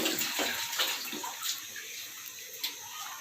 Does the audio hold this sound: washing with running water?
yes